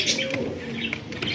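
Flying pigeons, black birds with black tails shown for sale in a batch of fifteen, coo and chirp faintly and steadily at close range over a low background murmur.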